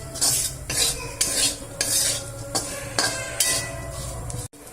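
Prawns for a Kerala-style prawn roast fry in a pan over a low flame while a utensil stirs them, scraping the pan in rhythmic strokes over a soft sizzle. A sharp knock sounds near the end.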